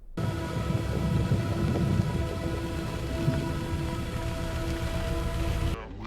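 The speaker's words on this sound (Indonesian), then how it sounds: "Ternyata, hujan asam sudah sampai di daerahnya" Steady rain falls throughout, a dense even patter with a low rumbling undertone, continuous and fairly close before cutting off near the end.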